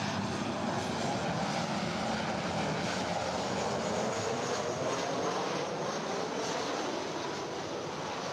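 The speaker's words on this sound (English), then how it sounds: "This is Southwest Airlines flight 2571 coming in from Sacramento." A Southwest Airlines jet arriving from Sacramento at LAX gives a broad, steady engine roar that sits close and fairly loud, holding level throughout with no voices.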